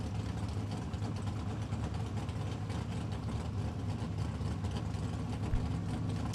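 A 1972 Datsun 510 race car at a drag racing event, its engine giving a steady low, rumbling drone at an even loudness throughout.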